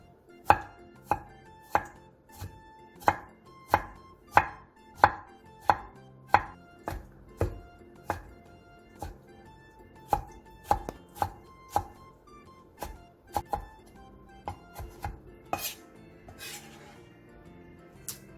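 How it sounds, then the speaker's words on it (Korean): A knife finely chops peeled tomatoes on a cutting board, sharp evenly spaced strikes close up, slowing and turning irregular toward the end, with no voices. "껍질을 깐 토마토는 꼭지를 제거한 뒤 잘게 다져주세요"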